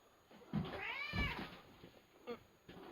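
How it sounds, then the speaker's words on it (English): A house cat meows in a workshop where epoxy and welding work is under way: one drawn-out, rising and falling meow in the middle of the clip, with faint thumps and a steady high electrical whine behind it. "Ignore the cat."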